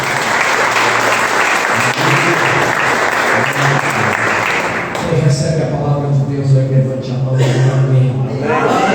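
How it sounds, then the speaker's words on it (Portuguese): A church congregation applauds steadily during a family service, the dense clapping filling the room, while a voice talks over it and the applause thins toward the end. "Você pode aplaudir o Senhor de volta."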